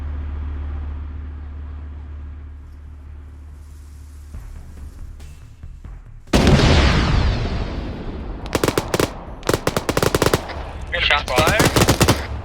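Gunfire in the video game ARMA during a tank battle: low engine rumble at first, then a sudden loud burst followed by repeated sharp automatic shots in clusters, close and harsh.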